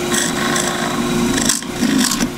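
A drill bores into wood on a lathe while turning a cross-grain box, giving a loud, close, rasping scrape that runs steadily with brief dips and a steady hum beneath.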